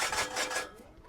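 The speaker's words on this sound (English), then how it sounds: "these little drills, they're just not the right tool for the job" A small handheld drill grinds loudly during lawn mower backlapping, a harsh continuous rasp that runs steadily for about half a second, then cuts off and fades into quieter residual noise.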